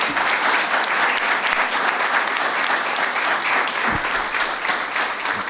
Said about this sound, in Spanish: brindarte un fuerte aplauso de parte de todos nosotros